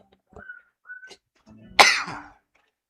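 A single loud, sudden sneeze bursts out after a quiet intake of breath, close and sharp, with a few small vocal sounds before it.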